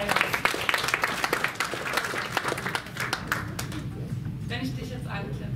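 An audience at a hypnosis and NLP congress applauds in a steady wash of clapping for a few seconds, which then fades out as a voice begins talking.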